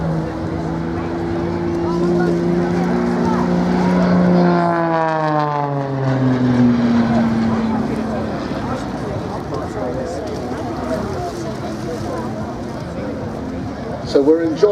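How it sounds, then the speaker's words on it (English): An Extra 600 composite aerobatic aircraft with a powerful six-cylinder engine flying a display, its droning engine rising and falling in pitch as it passes and recedes, with a steady broadband roar throughout. "composite aircraft with that very powerful 6-cylinder engine"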